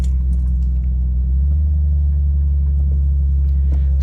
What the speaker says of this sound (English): so you could hear how bad the suspension sounded, all of that clattering in the back